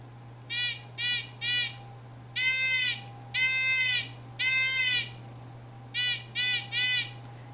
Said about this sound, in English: That's simple Morse code for SOS.